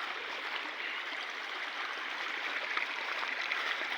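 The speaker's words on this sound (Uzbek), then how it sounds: "Mana bu yerda yerni ichidan mana buloq bo'lib chiqyapti." Cold spring water wells up out of the ground, a steady close rushing flow heard alone without voices.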